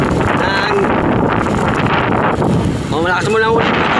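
Strong storm wind roars steadily through an open-air market in Aklan, a constant broadband rush with faint tonal chirps and a voice-like warble near the end.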